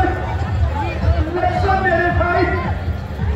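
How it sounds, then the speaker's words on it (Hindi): A large crowd at a Ramlila fair in Shahjahanpur, a steady murmur of many voices and chatter around the stage, with someone talking over the babble throughout. "तो यहाँ देखिए कितनी पब्लिक देख रही है दृश्य को, ये देखिए कितनी भीड़ है"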